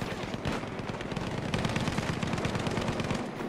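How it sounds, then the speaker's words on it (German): Several soldiers firing at once in Battlefield V: a dense, overlapping stream of rifle and machine-gun shots, steady and fairly close, over a continuous roar of battle. "Alter, drei Mann schießen auf ihn"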